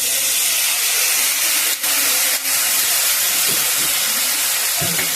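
Sesame and poppy seed paste frying in a pan with a steady, loud hiss of sizzling, broken by two brief dips and a faint clink or two near the end.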